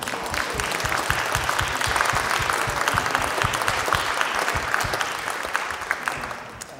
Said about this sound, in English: Can we stand up and give them a little clap?